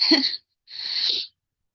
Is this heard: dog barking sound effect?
no